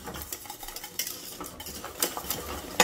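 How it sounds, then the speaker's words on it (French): A spoon scrapes and swirls through thickening pastry cream of flour or cornstarch in a pot, an irregular close stirring rhythm with faint clinks and no voices. "il faut compter environ 1 minute sans cesser de remuer"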